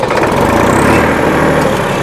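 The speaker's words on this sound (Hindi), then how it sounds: "ये दोस्तों ट्रैक्टर हो गया है स्टार्ट।" A Massey Ferguson 254 Di DynaTrack tractor's diesel engine runs just after starting, a loud, close, steady throbbing rumble with no talk over it.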